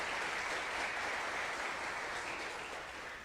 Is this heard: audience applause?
yes